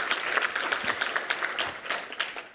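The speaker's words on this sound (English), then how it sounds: "let's get a round of applause for the students who put all this work together" Audience applauding students at a university business plan competition awards ceremony, a lively spread of clapping from a roomful of people, rising and falling in bursts with no talk.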